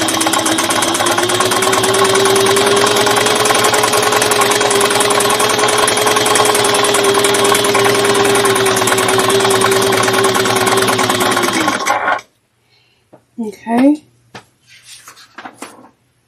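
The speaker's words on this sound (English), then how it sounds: "We are going to top stitch about 1/8 of an inch" A sewing machine runs steadily for about twelve seconds, a loud close whirring drone while top stitching a bag about 1/8 inch from the edge, then stops, followed by brief handling clicks.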